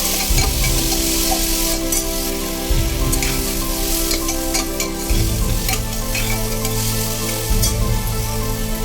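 Steady, dense sizzling of eggplant frying in oil with tomato, with occasional stirring scrapes, loud and continuous throughout.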